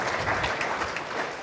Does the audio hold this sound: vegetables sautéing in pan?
no